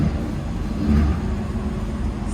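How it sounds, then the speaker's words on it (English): A bread truck camper van running with its radiator removed, its engine droning steadily and close by with a slight swell in revving partway through, heard alone without voices. "Oh, he's driving the Breadtruck without the radiator in it."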